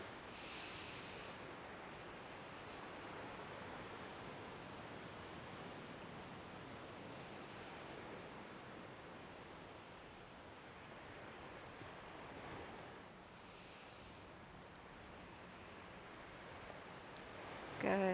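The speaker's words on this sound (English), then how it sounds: "Just listening to the sounds of the waves" Ocean waves wash in a soft, steady surf with gentle swells rising every few seconds, distant and continuous under faint breezy noise.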